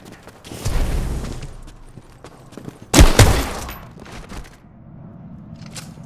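Video game gunfire in Titanfall, a burst of loud shots and a heavy impact near the middle, with scattered weaker reports and battle noise before and after.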